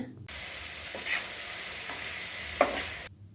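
A spoon stirs shrimp curry with green chillies in a pan, giving a soft sizzle with a few brief scraping clinks, then cutting off to silence.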